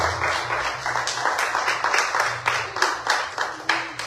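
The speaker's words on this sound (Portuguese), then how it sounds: "A palavra está encerrada e as palmas é para o Senhor Jesus" Congregation in a church service clapping for Jesus after the sermon, a steady dense wash of many hands with rhythmic pulses, close and fairly loud, faint low hum beneath.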